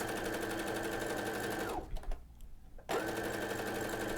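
A sewing machine fitted with a binding foot stitches starch-stabilized knit fabric, a loud, fast, even mechanical whir that halts for about a second midway, then resumes at full speed, with no talking.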